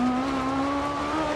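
Brief burst of a Peugeot F2 kit car at speed in DiRT Rally, a steady high engine whine with a sustained tyre hiss, loud and close, no voices.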